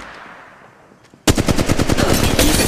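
Rapid automatic gunfire bursts out loud and close in the mobile battle royale game Apex Legends Mobile, after a brief quiet lead-in with faint background sound.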